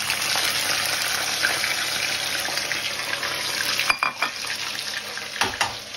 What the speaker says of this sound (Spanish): aquí tengo las patatas que os he dicho y aceite y les voy a hacer las fritas